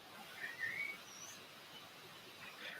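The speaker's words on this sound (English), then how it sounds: "This bunch of birds" Birds chirp through a distant microphone, a few thin whistled calls rising and falling over steady background hiss, faint and scattered.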